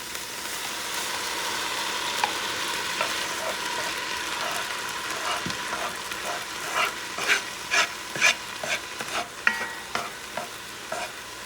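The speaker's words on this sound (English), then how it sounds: "Start hitting the sofrito." Sofrito and tomatoes sizzle steadily in a hot pan for rice with pork sausage, a continuous frying hiss with a run of louder stirring scrapes and clinks toward the end, close and without talk.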